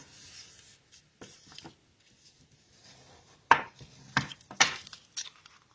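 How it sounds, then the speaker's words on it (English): A bone folder is rubbed firmly along the crease of folded cardstock for an easel card, making a few faint strokes followed by several sharper, louder scraping swipes close by. "to make sure that I run the bone folder over it really well"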